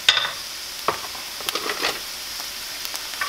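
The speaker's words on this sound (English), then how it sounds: "once this starts to sizzle, just go ahead and put in your meat" About a pound of ground meat sizzling in a hot pan, a soft steady hiss with occasional sharp crackles and pops, fairly faint and alone.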